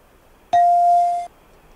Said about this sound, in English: Get the bell.